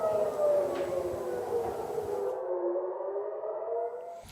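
An air raid siren wails over Tel Aviv, a steady sustained tone that slowly falls in pitch, loud and alone, then cuts off near the end.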